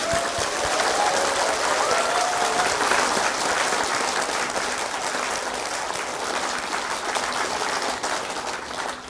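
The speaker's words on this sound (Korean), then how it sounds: "박수를 치려고 그러면 와작작하게 좀 치십시오." Sustained, loud applause from a large crowd at a Buddhist dharma gathering, an even wash of clapping filling the whole stretch without a break.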